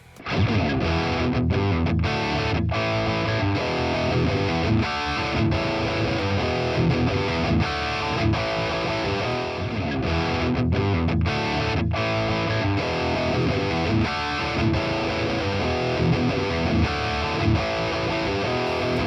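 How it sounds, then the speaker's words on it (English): An electric guitar plays through the Nunchuck PolyChrome DSP plugin in overdrive and rat distortion modes, a dense, continuous, heavily distorted riff with chugging chords and brief gaps, loud throughout. "you have 2 modes to choose from, the overdrive mode and the rat mode, which makes it more of a distortion pedal"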